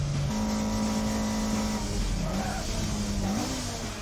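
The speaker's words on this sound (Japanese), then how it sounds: "キレのあるヒール&トゥー、シャープなシフトチェンジ" A car engine in the Initial D racing game revving through sharp heel-and-toe downshifts, its loud, steady drone stepping up and down in pitch as the gears change.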